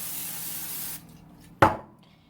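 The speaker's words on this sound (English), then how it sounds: "you're going to spray the cookie sheet" A short, sharp burst of cooking spray hits a cookie sheet while cookies are being made, a single loud hiss that tails off quickly in an otherwise quiet kitchen, with nobody talking.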